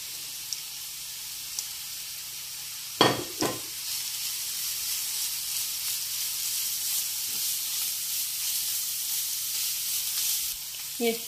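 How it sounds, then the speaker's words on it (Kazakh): A steady, bright sizzle of carrots frying in a pan runs throughout, broken by a couple of clanks of a utensil stirring near the start. "Енді осының үстіне сәбізімізді салып қуырайық."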